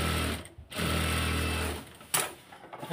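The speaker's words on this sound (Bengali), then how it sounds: "দেওয়ার পরে মেশিনের গাইডে দিয়ে এই যে এভাবে চতুর সাইড দিয়ে এভাবে সেলাই করে দিয়ে দিব।" A sewing machine stitches fabric pieces along their sides through the machine guide, a loud, steady close-up mechanical whir with two brief breaks in the stitching.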